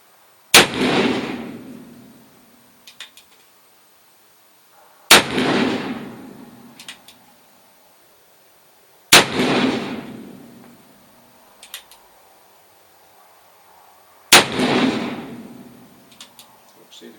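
Four loud, sharp reports from an 1858 Pietta black powder revolver, spaced roughly four seconds apart, each followed by a rumbling decay and a few faint clicks and handling noises between shots.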